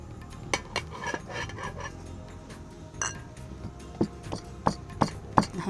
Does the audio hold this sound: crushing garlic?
yes